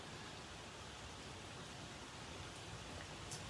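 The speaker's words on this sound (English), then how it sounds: "It is just raining and raining and raining and raining." Steady rainfall, an even, unbroken hiss of drops on surfaces that stays soft and constant throughout, with no voices.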